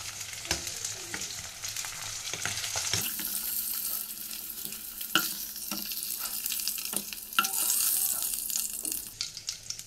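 Rohu fish frying in oil in a home kitchen, a steady sizzle with a few scraping and clinking stirs and brief louder spatters.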